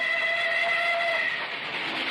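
A train pulls into a station: a continuous rumble of rolling carriages with a drawn-out whistle tone in the first half, loud and fairly near.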